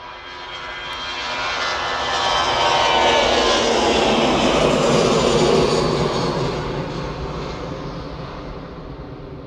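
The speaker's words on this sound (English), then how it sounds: "easyJet's on the roll. Going to Amsterdam, Airbus A320" An easyJet Airbus A320 bound for Amsterdam rolls down the runway on takeoff at Manchester, its broad engine roar swelling to a loud peak midway and then easing off slightly, with no voices over it.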